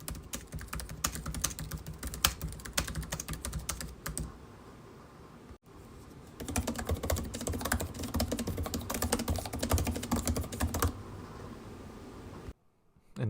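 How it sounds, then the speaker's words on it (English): Rapid, steady typing on a MacBook laptop keyboard, close and crisp, in two bursts separated by a short pause. "I've recorded the following 2 clips so you can get a better idea of what both keyboards sound like."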